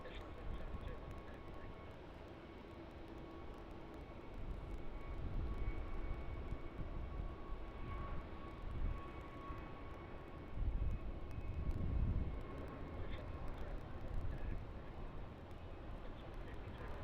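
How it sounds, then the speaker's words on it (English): A Jetstar Airbus A321neo jet airliner rolls down the runway for takeoff at Melbourne Airport, making a distant, steady engine roar that swells in the middle and later stretches, heard alone with no voices over it. "Jetstar flight JQ31 off to Denpasar, now rolling on runway 34, which is one of their new Airbus A321 Neos"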